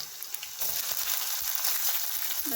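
Onion, chilli, ginger and garlic sauté in a pan for an Indian-style masala macaroni, a close, steady sizzle that grows louder partway through, with small crackles and pops and no talking.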